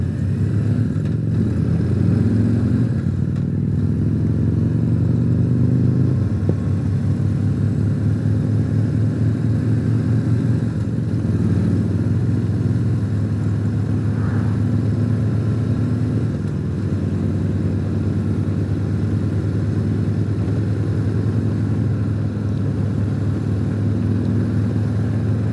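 A Harley-Davidson Tri-Glide trike with a 114 engine accelerates hard up through the gears to sixth, a steady loud engine drone with shifting pitch bands and faint wind buffeting throughout, no talk.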